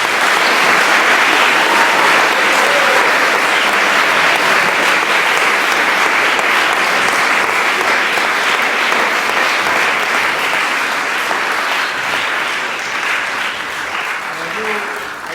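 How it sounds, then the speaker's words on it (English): A school Eisteddfod audience of pupils and spectators gives performers a long, loud round of applause, steady dense clapping that tapers slightly near the end, with some voices mixed in. "I think we should give all of you a super round of applause for it."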